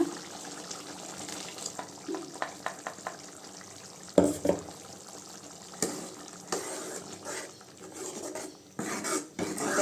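Sundakkai kuzhambu being stirred with coconut in a pan: faint, irregular scraping and stirring strokes with soft bubbling and a few sharper clinks, close by and without talk.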